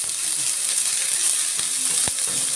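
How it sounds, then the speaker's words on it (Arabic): Grated tomato poured into a pan of frying fish, a loud steady sizzle filling the whole clip, with a few faint clicks and taps from a utensil near the end. "ننزل عليها طماطمية مبشورة."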